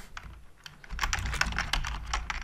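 Computer keyboard keys clatter in quick, irregular bursts as a Git commit message is typed, starting light and growing steadier and louder, close up with no talk.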